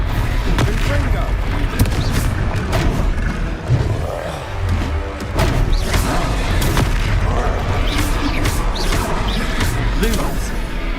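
Levioso, Protego and Confringo spells cast during a Hogwarts Legacy duel, with dense booming blasts and crashes packed over loud game music and talking throughout.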